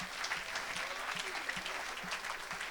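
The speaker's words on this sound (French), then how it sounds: "Est-ce qu'on peut acclamer? Est-ce qu'on peut acclamer?" Audience at an evangelistic gathering applauding, a continuous dense wash of clapping from a crowd, steady and moderately loud throughout the short stretch.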